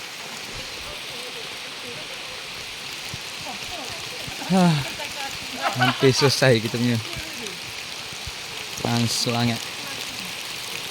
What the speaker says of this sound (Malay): Hujan agak lebat tu ni.